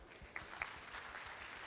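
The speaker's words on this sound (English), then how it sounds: "Let's give a round of applause." A short burst of applause from a panel audience at a tech expo in Cambodia, a quiet, moderately dense patter of clapping with a couple of sharper claps near the start.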